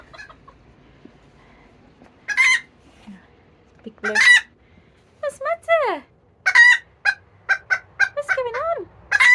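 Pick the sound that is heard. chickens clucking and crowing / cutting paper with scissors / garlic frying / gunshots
chickens clucking and crowing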